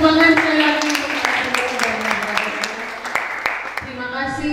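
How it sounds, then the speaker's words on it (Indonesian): An audience claps for a seminar speaker after a discussion session, a dense spread of applause under a voice talking, moderately loud in an indoor hall. "kita beri tepuk tangan sekali lagi."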